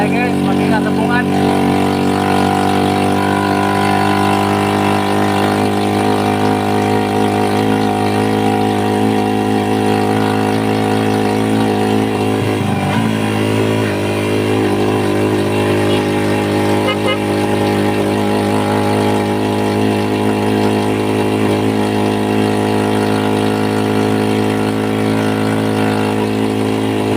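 A steady engine hum runs continuously throughout, a low idling drone that stays even in loudness with no pauses.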